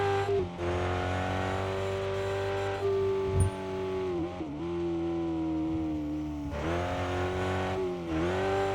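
A car engine in the RevHead racing game revs while climbing a hill in third gear, with a sustained loud harmonic drone that rises and falls in pitch through several rev swings, close and continuous, without talk.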